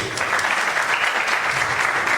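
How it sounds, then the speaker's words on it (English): An audience claps at a company rewards and recognition ceremony, a dense, loud, steady round of applause with no one speaking over it. "Round of applause, guys, please."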